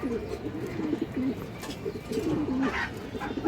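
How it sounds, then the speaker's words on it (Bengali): Giribaz pigeons at a sale cooing close by, a series of low throaty rolling coos repeating in short phrases over faint background rustle. "একটা খুবই সুন্দর মাদি কবুতর আছে মাশাআল্লাহ"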